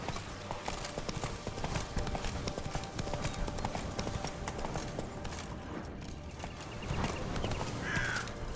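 Hooves clip-clop in a steady galloping rhythm as a horse runs in The Witcher 3: Blood and Wine, a continuous mid-level beat with faint background game sounds.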